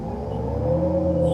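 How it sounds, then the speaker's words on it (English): A 2025 Chevrolet Equinox electric SUV pulls hard from a standstill, its steady rising whir and road roar loud and continuous through a short launch, with no talk over it. "So this is going to take us from 0 to 60 in 3 seconds."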